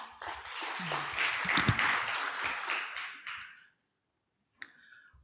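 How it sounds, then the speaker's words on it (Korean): Conference audience at a maritime and shipping outlook session clapping in a dense burst of applause that runs for about three seconds and then fades to silence, followed by a single faint clap. "다시 한번 큰 박수 부탁드리겠습니다."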